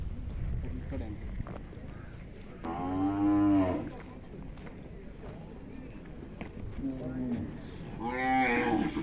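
At a bullock cart racing ground, a bull lets out two long, loud moos a few seconds apart, with murmuring voices and faint clatter in the background between calls.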